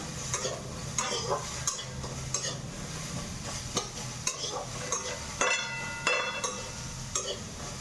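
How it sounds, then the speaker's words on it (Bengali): Onions fry in hot oil in a pan, a soft constant sizzle punctuated by frequent clicks and scrapes of a spoon stirring against the metal, close and fairly quiet, with no talking. "আর পেঁয়াজগুলো তেলে দিয়ে দেবো।"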